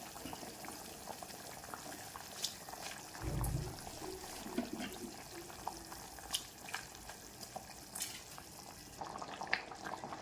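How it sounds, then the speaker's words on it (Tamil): Sprouted horse gram water simmers and bubbles in a pot as rice is tipped in, one short rush of pouring standing out against the soft, continuous bubbling, with no voices. "ஸ்டவ்வை சிம்மில் வச்சுட்டு அரிசியை போட்டுக்கலாம்."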